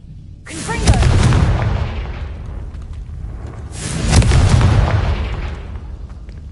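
Confringo fire spell blasts in the Hogwarts Legacy video game: two heavy, booming explosions a few seconds apart, each with a sharp onset and a long rumbling decay, loud and close.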